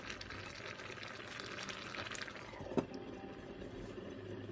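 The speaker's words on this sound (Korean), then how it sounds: "다시 끓어오르면 중약불로 줄여 뚜껑을 닫아 15분간 더 끓여주고" Fish stew simmers in a covered pot, a faint, steady bubbling hiss with one small click partway through.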